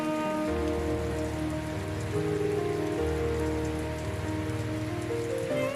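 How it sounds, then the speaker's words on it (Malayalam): Rain falls steadily, heard through a window as an even, soft patter beneath sustained musical tones. "വാവ്, നോക്ക് മേനോനെ, മഴ."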